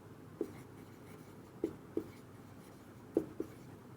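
Numbers are written on a board in a quiet room, with five soft, separate taps and strokes spaced irregularly and nothing else above a low room hush.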